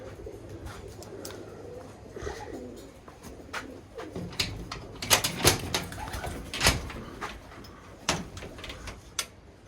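Imported Birmingham Roller pigeons in a loft cage coo repeatedly in low, throaty bursts, with sharp clattering knocks and scuffles from the cage that grow busier and louder halfway through.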